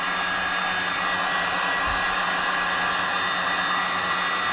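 A heat gun blows steadily and loudly on vinyl wrap over the front bumper of a C5 Corvette, a constant close hiss and whoosh that never changes across the whole stretch.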